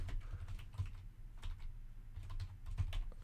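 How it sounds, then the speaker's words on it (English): Typing on a computer keyboard during a livestream, rapid clicky keystrokes in short uneven bursts, close but quiet, with no talking. "Let me type it in here."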